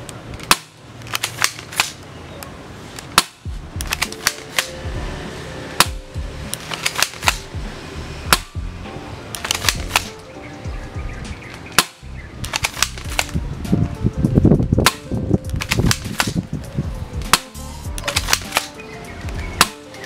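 A D'Cobra Tec9 airsoft handgun fires 0.25 BBs in a long run of sharp, snappy cracks, some spaced and some in quick clusters, loud and close with mechanical clatter between shots and no talk.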